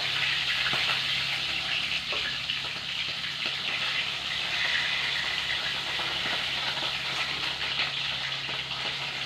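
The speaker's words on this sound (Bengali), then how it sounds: "বাকি মাছগুলো এইভাবে ভেজে নিই।" Pieces of sea fish fry in hot oil with a steady, loud, hissing sizzle that continues unbroken throughout.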